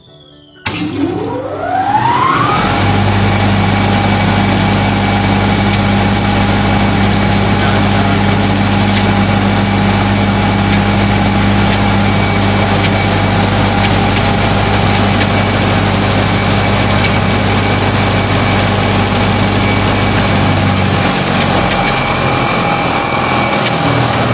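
A powerful motor on a horizontal feed grinder-mixer starts up, then settles into a loud, steady droning hum that runs unbroken and close by, with no talk over it.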